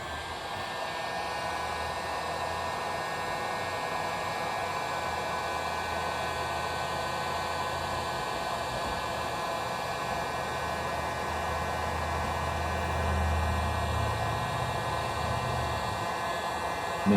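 A heat gun blows a steady, even rush of hot air to shrink heat-shrink tubing over a wire splice on a heated glove, loud and continuous throughout with no talking.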